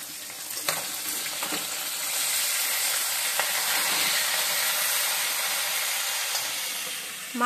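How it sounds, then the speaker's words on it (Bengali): Fish rubbed with turmeric and salt frying in hot oil in a home kitchen, a steady bright sizzle and hiss that swells in the middle with a few faint clinks of utensils, and no voices. "এখন আমি মাছটা ভালো করে ভেজে নিই"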